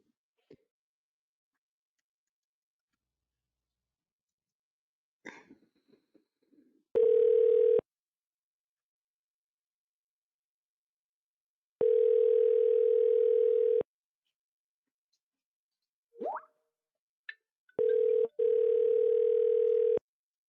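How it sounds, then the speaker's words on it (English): A telephone dial tone calling a cell phone, heard as three loud, steady tone bursts of a few seconds each, separated by silence and a few faint clicks. "I'm going to call my cell phone here."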